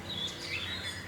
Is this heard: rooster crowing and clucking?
no